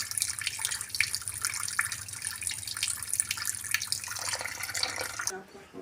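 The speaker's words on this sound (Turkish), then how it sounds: "Şimdi burada su akıyor yavaş yavaş. Kombinin içindeki suyu boşaltıyor." Water drains slowly from a combi boiler during servicing with a steady hiss and trickle like a running tap, close and continuous, then thins out near the end.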